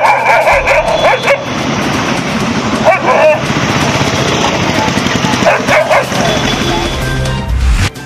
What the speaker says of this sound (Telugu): పెద్దపల్లి పట్టణంలో ఏ వీధిలో చూసినా కుక్కల గుంపులే